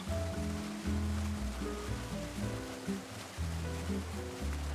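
Waterfall water feature at the Sunset Station casino in Henderson, a steady broadband rush of falling water heard continuously, mixed with low background hum and music-like tones.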